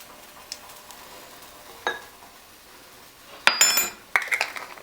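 A spoon scraping and clinking against a pot while breaking up chunks of chili meat, a few scattered soft taps followed by a louder burst of metallic scraping and clatter near the end.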